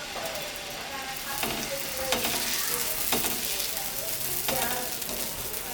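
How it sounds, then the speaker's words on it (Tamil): Corn dosa batter hisses and sizzles on a hot griddle in a steady, moderate crackle, broken by a few sharper spatter bursts, with no speech over it. "இப்போ நம்ம தோசை ஊற்றலாம். கல் நல்லா சூடாகிடுச்சு."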